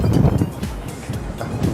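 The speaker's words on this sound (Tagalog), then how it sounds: "Medyo malakas yung hangin kasi kaya medyo malakas din yung alon." Strong wind buffets the microphone in a low, rumbling roar, with the thump and wash of rough waves against a moving speedboat near Boracay.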